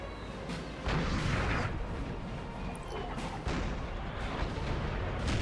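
Artillery booms out in a Napoleon: Total War battle, several heavy, rumbling blasts spaced across a few seconds, loud and reverberant with the din of the battlefield between them.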